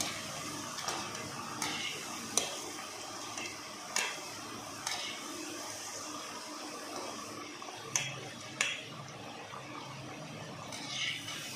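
Vegetables, here potatoes, fry in a pan over a medium flame, giving a low, even sizzling hiss dotted with regular light taps and clicks from stirring, and no one speaks.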